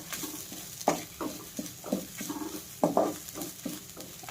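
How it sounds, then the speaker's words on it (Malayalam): Grated coconut, shallots and dried red chillies frying over low heat in a pan, with soft sizzling and a repeated scraping of a spoon as the mix is stirred. "ഇത് ചെറിയ തീയിൽ കിടന്നിട്ട് നല്ല ഗോൾഡൻ ബ്രൗൺ കളർ ആവുന്നവരെ നമുക്കിത് വറുത്തെടുക്കണം."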